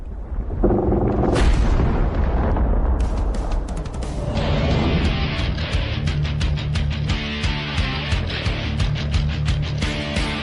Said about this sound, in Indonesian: Suara dentuman besar itu, gerbang terbuka.